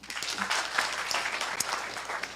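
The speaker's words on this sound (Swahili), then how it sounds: "Tuwapigeni makofi." A crowd at a political meeting with Kenyans in Seattle, USA, breaks into applause, a dense burst of clapping that runs continuously for a couple of seconds.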